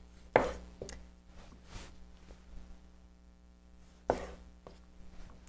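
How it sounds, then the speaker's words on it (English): Tomatoes being cut with a sharp knife on a board, a few crisp, separate chopping taps with quiet pauses between them, close and fairly soft. "You should be able to cut tomatoes like this with ease, like you were slicing butter"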